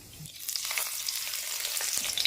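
Whole cumin and dried chillies sizzle in hot mustard oil, a bright, crackly hiss that swells slightly and holds steady throughout, close and fairly soft.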